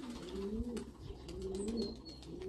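A gray male tumbler pigeon coos softly in repeated low phrases, close by, with a few faint chirps and rustles around it.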